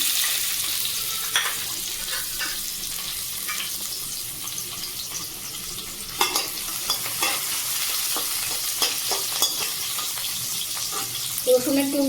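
Chopped onion frying in a pan for Maggi noodles produces a steady low hiss under repeated spatula scrapes and clinks, growing busier toward the end.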